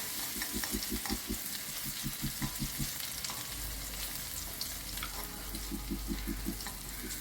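Garlic frying in a pan for tomato puree rasam, a quiet sizzle with repeated stirring or scraping taps in short bursts, alone without talk.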